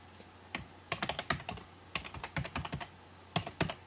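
Typing on a computer keyboard to enter a login username and password, quick clusters of crisp key clicks with short pauses between, close and clear, no speech.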